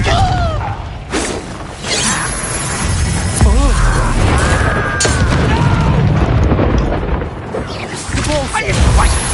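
Bombarda spell blasts in the Hogwarts Legacy video game: loud booming explosions with shattering debris and clattering mechanical noises, packed densely over a continuous game soundscape.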